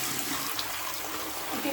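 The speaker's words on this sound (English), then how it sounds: "I'll see if you can see me dump the water out" Dirty wash water from doll clothes is poured out into a sink, giving a brief, soft gush and splash that sounds fairly close and quiet.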